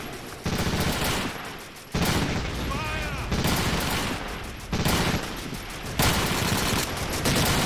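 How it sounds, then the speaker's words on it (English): Repeated bursts of artillery fire pounding a Pak 40 gun position in a video game, loud crashing blasts and rattling gunfire recurring every second or two in a continuous barrage, with some indistinct voice mixed in. "there's the artillery on the Pack 40"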